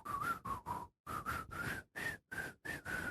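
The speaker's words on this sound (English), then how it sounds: "It's like the worst whistling job I've ever done." A person whistles a short choppy tune in separate bursts, close and fairly loud, with brief pauses between phrases.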